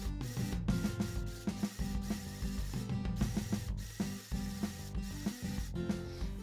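Mini sewing machine stitching a straight line, a continuous close mechanical whirring and rattling with a fast rhythmic needle beat, running without speech.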